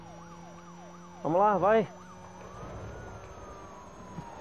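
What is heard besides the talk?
police car sirens, from the video game Need for Speed: Most Wanted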